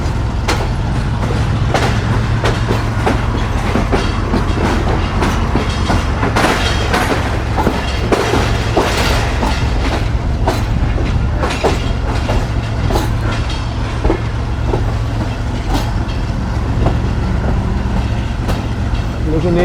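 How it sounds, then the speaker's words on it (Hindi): The Pakistan Express runs on the rails, its carriages rumbling with a steady low roar and a scattering of clicking wheel knocks, heard from on board and close by. "खानपुर से चला दिया गया है पाकिस्तान एक्सप्रेस को"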